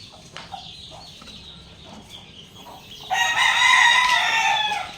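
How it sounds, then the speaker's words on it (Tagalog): A few soft clucks from backyard hens at first, then a rooster crows loudly and at length close by, with no talking. "Mga inahin."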